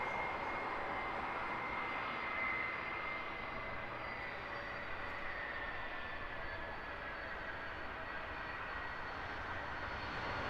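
Airbus A320 family airliner coming in to land at Heathrow Airport in the morning rush: a steady, broad jet engine roar with a droning whine, sustained and fairly distant throughout, no voices.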